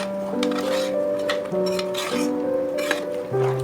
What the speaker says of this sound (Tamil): ஸோ கலந்து விட்டுட்டே இருங்க.